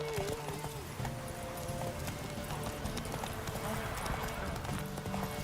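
Roach the horse galloping in a video game, rapid rhythmic hoofbeats running continuously at a steady loud level, with a voice speaking over the opening moments.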